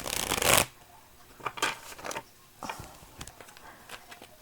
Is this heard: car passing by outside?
no